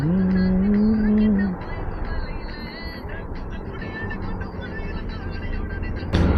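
Road traffic drones around a food-delivery rider in Saudi Arabia. A rising engine tone opens, then a continuous rumble of nearby vehicles follows, with some faint voice-like sound.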